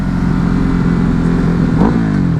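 A Ducati Hypermotard motorcycle engine runs loud and close with a steady throaty drone, rising briefly in a quick rev near the end.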